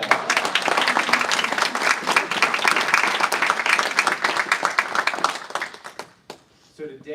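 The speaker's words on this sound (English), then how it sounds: "Let's give her a round of applause." An audience at an Army promotion ceremony gives a full round of applause that holds for about five seconds, then fades out as a voice starts speaking.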